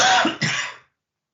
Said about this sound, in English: It's the post-Christmas cough.